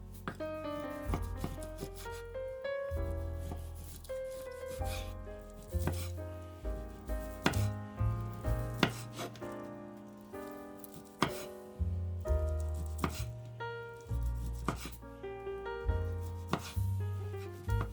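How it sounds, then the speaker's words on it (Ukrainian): Steady knife strokes dice a boiled chicken fillet into cubes on a cutting board, close and regular, with soft background music underneath. "Куряче філе, яке я попередньо відварила в підсоленій воді, ріжу кубиком."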